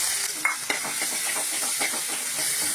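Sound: fish heads frying in oil

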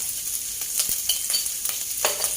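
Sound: dried chilies being stir-fried in a pan

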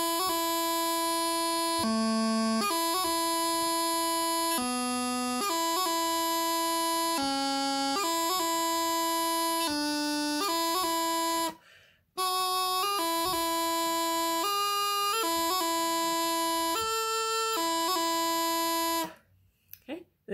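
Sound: bagpipe chanter playing double E doubling scale from low G

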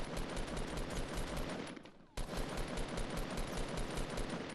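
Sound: gunfire in video game Fortnite

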